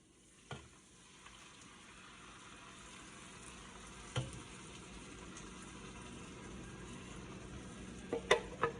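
Venison renders down in a pan on the stove, a faint, steady sizzle and crackle with a few sharp clinks of a utensil against the pan scattered throughout.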